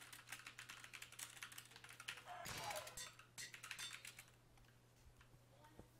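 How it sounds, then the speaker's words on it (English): Computer keyboard typing during an online game, rapid clustered keystrokes in quick bursts, faint and distant over a low steady hum, with a short pause before a few scattered final taps. "That's Cappy typing"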